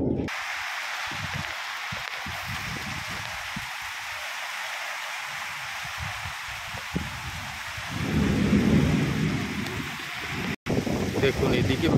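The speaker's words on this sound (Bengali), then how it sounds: "প্রচুর পরিমাণে বৃষ্টি হচ্ছে বাইরে।" Heavy rain pours steadily through a Kalbaishakhi nor'wester storm, with low thunder rumbling underneath and a louder surge of downpour and rumble in the later seconds, no talk.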